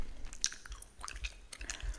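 Close, soft gum chewing with wet squishy smacks and small clicks in an uneven rhythm, quiet and intimate with no talking.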